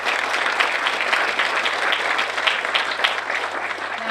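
A steady round of applause from a room of guests at a chamber of commerce breakfast greets Commissioner Ashley Randall, even and continuous throughout with no talking over it.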